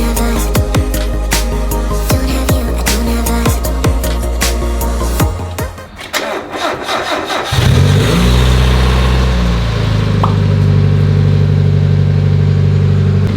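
A Mazda Miata engine cranks on a newly installed starter with rapid rhythmic churning, then catches around the middle and settles into a loud, steady idle.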